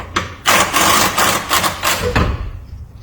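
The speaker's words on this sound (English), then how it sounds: "now I'm going to drop the front axle" Toyota Previa (Tarago/Estima TCR10) front axle dropping during removal in a workshop, a sharp metallic clunk followed by a loud clattering, rattling burst of heavy metal parts shifting and settling, close and loud.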